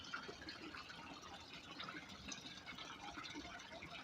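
Water pours steadily into a large aquarium being cleaned, a faint continuous splashing and gurgling fill that runs evenly throughout with small bubbly drips.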